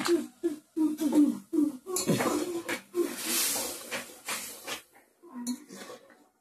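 Spices for tempering go into a lentil and eggplant dal, set against rapid clinks and knocks of metal utensils; a short burst of hissing sizzle rises in the middle before the clatter resumes and fades.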